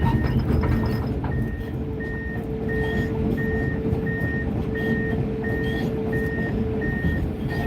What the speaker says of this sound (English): Alright, we got our trash truck here.